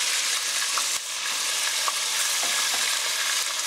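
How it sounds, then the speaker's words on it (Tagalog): Pork searing in hot oil in a pan for a Korean pork stew, a loud continuous sizzle and crackle of frying with small pops scattered through, close and steady with no talking. "you never want to overcrowd when you sear or when you fry"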